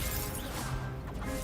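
A Confringo blast spell cast in Hogwarts Legacy gives a short, loud, crashing burst that fills the moment with dense noise and no clear pause.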